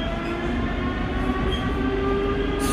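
A blue Sofia City metro train runs with a steady, loud rumble and hum from the rails and cars, continuous from start to finish, with a faint high squeal near the end.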